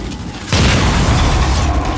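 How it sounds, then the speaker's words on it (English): A missile explodes in a video game: a sudden loud, broad boom hits about halfway through and rolls on as a sustained roar, with no voices. "A missile already."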